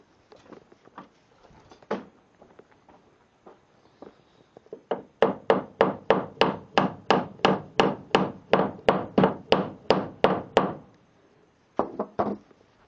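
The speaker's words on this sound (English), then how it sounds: "I'll probably have to hammer that first one in." Light taps at first, then a long run of steady, evenly spaced hammer blows driving a nail into wood, loud and close, ending with a few softer knocks.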